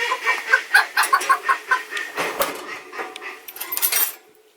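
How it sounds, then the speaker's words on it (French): Two small roosters cluck in a rapid, uneven run of close, loud calls, with some light clatter mixed in, before the sound cuts off. "Et là, du coup, j'ai 2 petits coqs."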